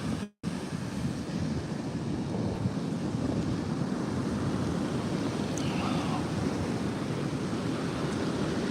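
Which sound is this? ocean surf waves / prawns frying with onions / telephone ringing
ocean surf waves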